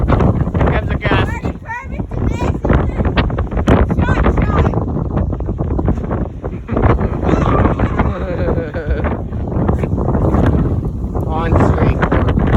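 A strong gust of wind roars in southern Kansas, buffeting the microphone with loud, continuous rumbling while people talk and shout over it.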